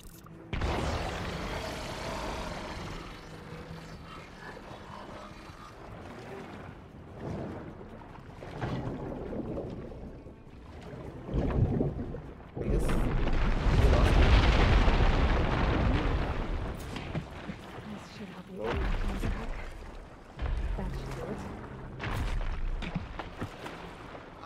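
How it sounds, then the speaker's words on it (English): A smoke bomb bursts in Horizon Forbidden West, heard as a heavy, rumbling whoosh that swells to a loud peak midway, then settles back among scattered game effects and low booms. "Oh, smoke bomb."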